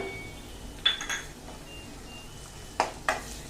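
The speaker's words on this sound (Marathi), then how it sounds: "हे छान मस्तपैकी परतून घ्यायचं, खमंग असं छान परतायचं" Ginger, chili and garlic paste sautéing in a pan for Punjabi chole, with a few sharp clinks and scrapes of a spoon against the metal over a faint, steady hiss.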